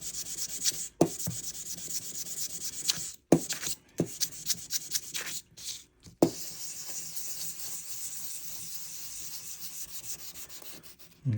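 A scratched Seiko Hardlex watch crystal is sanded back and forth with even pressure, giving close, steady rasping strokes in quick rhythmic runs broken by a few short pauses.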